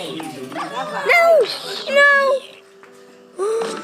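Dog barks, yelps and whimpers from a video game, several loud whining yips with rising and falling pitch coming in separate bursts, mixed with game sounds.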